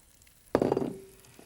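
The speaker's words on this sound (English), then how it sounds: "Now, I'm just going to chuck the clams into the pan." Clams tipped into a large pan of hot sunflower oil hit with a sharp burst of sizzling and crackling that quickly settles into a fainter hiss.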